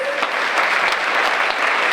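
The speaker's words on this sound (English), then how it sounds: "Can we give them another big round of applause?" A big round of applause from the crowd at a women-in-business event honouring costumed superheroes, loud, dense clapping filling the room continuously, with faint voices beneath.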